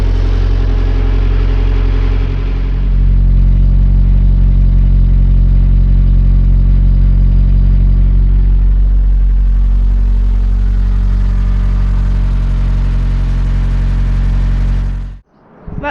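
Nissan Micra K10 engine running just after an engine wash, a loud close steady idle with a slight rise in pitch early on, continuing evenly until it cuts off abruptly at the end.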